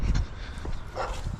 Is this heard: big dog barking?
yes